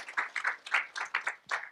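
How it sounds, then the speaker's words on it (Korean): A church congregation applauding, with scattered claps in a short uneven burst, fairly faint, with no talking over it. "우리 미디어 사역국 우리 박수로 한번 격려해 주시면 감사하겠습니다"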